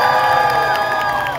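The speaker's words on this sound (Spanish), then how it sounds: "a ver, aplauso otra vez para Dani" A short burst of cheering and applause from a comedy show audience in Kyoto, a dense, steady roar of voices and clapping at moderate distance.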